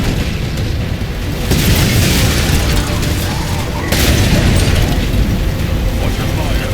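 A Halo 4 battle explosion strikes the Mammoth vehicle, giving two loud booming blasts a couple of seconds apart over a continuous roar of mechanical battle noise.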